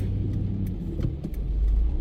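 A car idles and rolls in city traffic on a rainy morning drive in Paterson, with a steady low engine rumble throughout and a few faint clicks and brief swells as it eases forward to merge.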